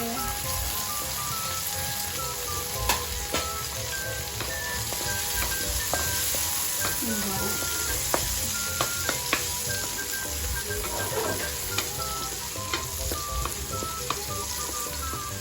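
Onion and chili sizzle steadily in a hot pan, with a dense, continuous crackle and scattered louder pops and faint clinks, close and alone without talk.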